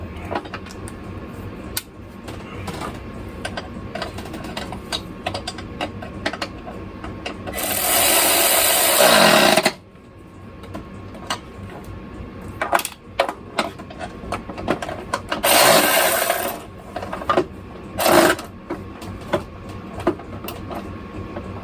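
Ratchet tightening a 10mm nut on the 3.6 engine of a 2017 Chrysler Pacifica, with several bursts of quick ratcheting clicks between quieter handling noises.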